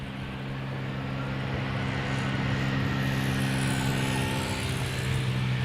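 Croatia Airlines passenger jet arriving at Amsterdam Schiphol from Zagreb, a steady loud engine roar that holds and swells slightly over several seconds, heard outdoors from a spotting position.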